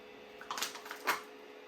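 A vacuum-sealed bag of white PLA 3D-printer filament is pulled open, two short faint crinkling, rushing bursts in a quiet room with no speech.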